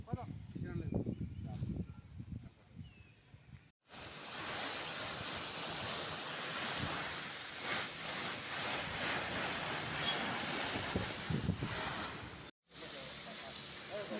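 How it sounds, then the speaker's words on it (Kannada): A loud, steady rushing hiss of a high-pressure water jet spraying a wall, broken by two brief cutoffs, with muffled voices at the start. "ಇದು ನೀರು ಬರೋ ಪೈಪಲ್ಲಿ ಫೋರ್ಸಲ್ಲಿ ಇರುತ್ತೆ"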